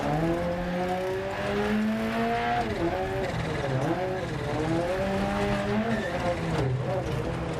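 A rally car in Dirt Rally 2.0 on a New Zealand stage: a steady, loud engine drone whose pitch rises and dips sharply during a tight turn, mixed with gravel and tire skid noise throughout.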